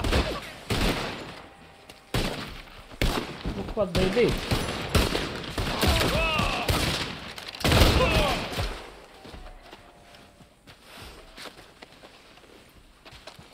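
Gunfire in Red Dead Online, with bursts of shots crackling repeatedly through the first half and thinning out later, mixed with hoofbeats and someone talking over it.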